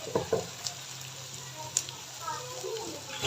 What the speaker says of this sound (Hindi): अभी प्याज को हम फ्राई करेंगे ऑयल के अंदर